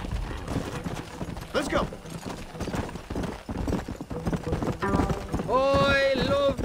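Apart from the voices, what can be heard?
horse galloping, from video game Red Dead Redemption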